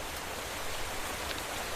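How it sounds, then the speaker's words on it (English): Steady rain hissing down in the video game Minecraft, a dense, even wash of falling drops heard alone and close, with no talk over it. "and it is raining."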